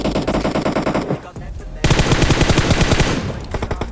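Gunfire in a shooting video game: rapid automatic bursts, loud and close, one volley broken by a short pause before a longer sustained burst of fast repeated shots.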